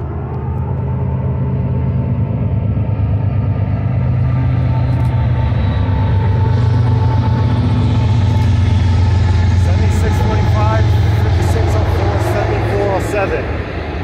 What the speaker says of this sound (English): This might be the oil train.